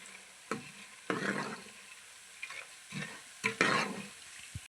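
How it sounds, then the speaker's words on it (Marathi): Fried boondi being stirred into warm sugar syrup for boondi laddoo, giving several separate bursts of wet scraping and sizzling with quiet pauses between strokes, close up and no talk. "तळलेली बुंदी पाकात टाकली आपण आता मिक्स करून घेऊ"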